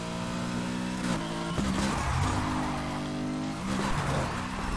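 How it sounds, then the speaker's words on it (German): Car drifting in the Need for Speed Heat racing game, a steady engine roar under sustained tire squeal with shifting pitch through the slide, loud and continuous without talk. "So driften wieder, ne?"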